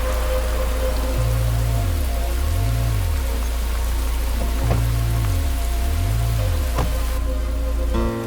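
Steady rain pours down in a dense, even hiss, with a low tone rising and falling underneath and a few sharp drips standing out.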